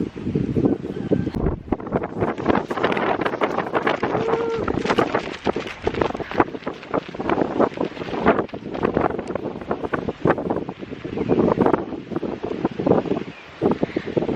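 Strong gusting wind buffets the microphone at Klangon camping ground on Merapi, with a rooftop tent caught in the windstorm, a continuous loud roar and rustle throughout with no talk.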